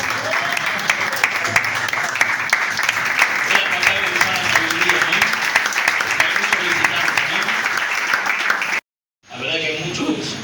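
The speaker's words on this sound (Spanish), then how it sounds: "Dale un aplauso bonito" Sustained applause from a large church congregation, dense and steady for about nine seconds, cutting off abruptly and then resuming briefly.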